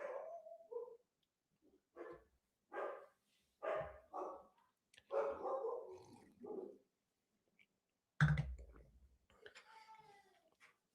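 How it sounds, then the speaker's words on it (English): Dogs bark in short, separated bursts at moderate distance, with quiet gaps between them and a louder sharp sound near the end. "I hear the dogs going off right now."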